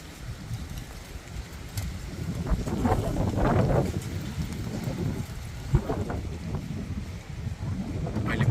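Gusty wind sweeps across an open spot in Nepal as rain approaches, blowing in loud surging waves with a low rumble that swells and fades under the gusts.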